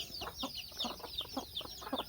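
Hens with newly hatched chicks cluck in short repeated bursts, a busy overlapping clutter of soft calls with higher chirps over them, fairly close and steady throughout.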